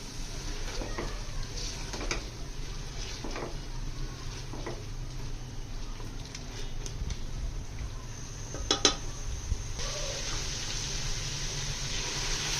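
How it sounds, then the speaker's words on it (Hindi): Beef being stir-fried with salt and spices in a karahi, a metal spoon clinking and scraping against the pan in irregular strokes over a steady low background. "एक मिनट हमने अच्छी तरह गोश्त की बुनाई कर ली है।"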